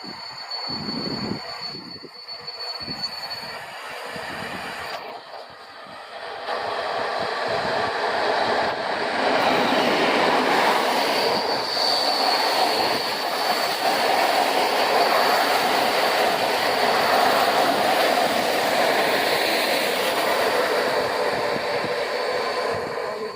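The Pomorzanin passenger train rolls through Rawicz station in Poland, a sustained close rumble and rail roar that builds after a few seconds and holds steady with faint wheel squeal.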